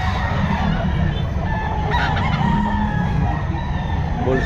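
Stag roosters crow repeatedly at a busy Bocaue pet market in Bulacan, several birds overlapping near and far, with clucking and goose-like honks over a constant crowd din.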